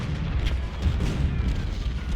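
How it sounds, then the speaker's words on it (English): Cannon artillery fire rumbles as deep, overlapping booms in a Civil War battle at Malvern Hill in the Ultimate General: Civil War video game, a dense low roar with distant repeated thuds. "Cannons are dealing some heavy damage to the enemy."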